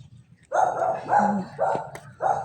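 A dog barks four times at a steady pace, each bark short and mid-pitched, fairly close and clear against a quiet outdoor background.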